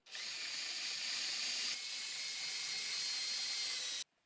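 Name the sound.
power drill drilling screw holes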